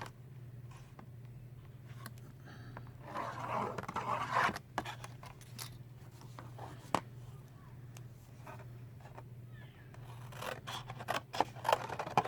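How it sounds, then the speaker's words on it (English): Scissors snip and scrape through fabric for a no-sew gift bag, in quiet irregular cuts with rustling of the cloth, over a low steady background hum. "so cut it to the size that you want"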